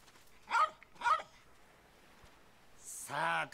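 A dog in the video game Yakuza 3 gives two short, sharp barks about half a second apart, then falls quiet before a brief whine and a louder harmonic yelp close by.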